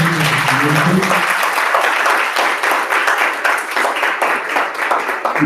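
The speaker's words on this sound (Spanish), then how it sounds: "vamos a darle un último aplauso." Loud, dense audience applause at an academic talk on educational innovation, a steady wash of many hands clapping throughout with a faint voice briefly underneath at the start.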